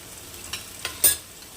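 Prawn paste frying in a pan sizzles steadily, with water splashed in to make a few quick louder hisses and scrapes over the constant crackle.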